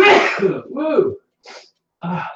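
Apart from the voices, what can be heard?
sneeze from allergies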